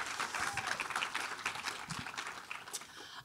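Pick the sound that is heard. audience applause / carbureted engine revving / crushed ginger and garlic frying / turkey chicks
audience applause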